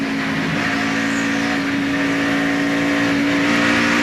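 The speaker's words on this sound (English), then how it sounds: "Here, Biffle just playing with the throttle." A 2001 NASCAR Busch Series race car engine drones loudly and steadily under caution, its throttle blipped and revved throughout with a sustained mechanical whine.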